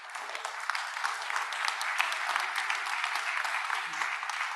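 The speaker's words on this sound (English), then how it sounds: "please give them a big round of applause" A conference audience at a growth and decolonization plenary gives a big round of applause for the speakers, a dense, continuous clapping that stays fairly even and fills the whole stretch without voices on top.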